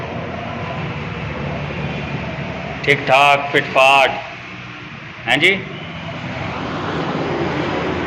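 A restored Suzuki Wagon R engine, rebuilt so its tappet noise is gone, runs at a steady even idle throughout, while someone speaks briefly over it.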